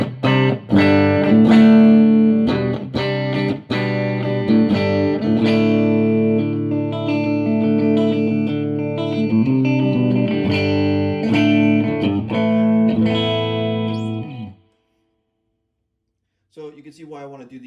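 An electric guitar plays through a Fender Blues Junior amp with the treble turned down to about 8 o'clock, giving sustained distorted chords and notes, loud and close, that cut off near the end before a brief quiet strum.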